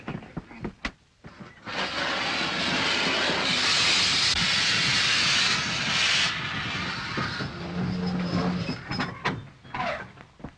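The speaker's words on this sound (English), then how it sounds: "You've got to let all the steam out." A steam locomotive vents steam in a 1937 film: a loud, sustained roaring hiss for several seconds that then fades, framed by sharp clanks and rattles.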